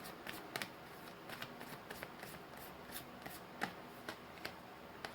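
Tarot cards being shuffled and drawn by hand, soft papery rubbing and riffling with small slaps and taps, faint and close, no one speaking.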